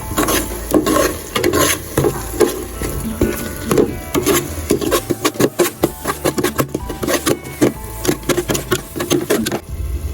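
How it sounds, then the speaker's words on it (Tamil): Ginger garlic paste sizzles and sautés in a pan while a spatula scrapes and taps against the metal in quick, uneven strokes, loud and close. "இஞ்சி பூண்டு பேஸ்ட்டு போட்டுருங்க அதை நல்லா வதங்கும் வரைக்கும் வதக்கிடுங்க"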